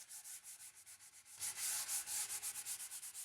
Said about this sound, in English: there is no substitute for hand sanding. Cleaning up roundovers, easing edges, fixing small imperfections